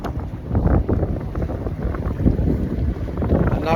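Steady wind buffets a small fishing boat out on a lake during a day of crappie fishing, a continuous low rumbling roar with gusty swells and no speech.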